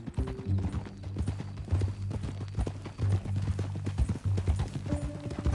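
Steady clip-clop of horse hooves at a walking pace in the video game Red Dead Redemption 2, rhythmic and moderately close, over a low humming background.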